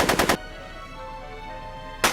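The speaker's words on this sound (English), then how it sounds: "Are you shooting at me?" Rapid gunshots ring out in the Back to the Future video game: a quick burst of about four loud shots, a pause filled with quiet ambient tones, then another sharp shot at the end.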